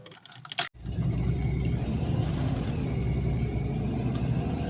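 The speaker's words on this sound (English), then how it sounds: "It's running, but it's running rough." A 1995 BMW E36 engine running rough, a steady close rumble that settles in right after a brief clatter of starting.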